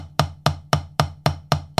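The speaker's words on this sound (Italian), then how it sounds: "Se noi sentiamo anche su pad delle 5B e le paragoniamo con le 7A" 7A drumsticks striking a drum practice pad, seven sharp evenly spaced hits about a quarter second apart, each a crisp near tap with a short ringing decay, no talking.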